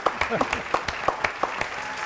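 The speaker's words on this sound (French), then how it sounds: "applaudissements pour Cyril Lafito" Studio audience applause on a French talk show, a steady run of sharp claps with voices talking over it.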